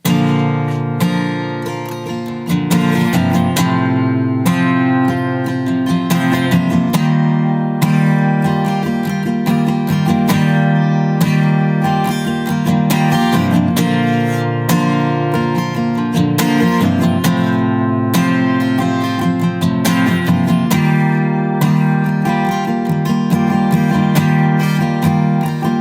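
The verse of a song played on guitar, strummed chords ringing full and close in a steady rhythm, with no voices.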